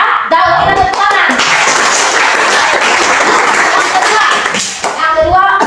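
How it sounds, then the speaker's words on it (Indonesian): A classroom of student teachers breaks into a burst of clapping for a classmate, dense and steady for several seconds, with talk just before and after. "kita tepuk tangan"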